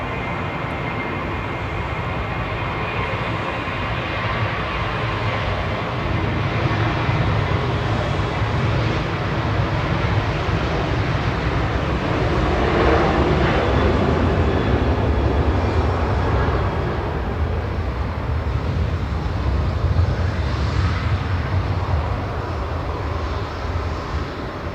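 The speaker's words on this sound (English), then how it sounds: "737 taxi." A Boeing 737 taxiing at Manchester Airport produces a steady, fairly loud engine hum and whine that swells slightly in the middle and holds throughout.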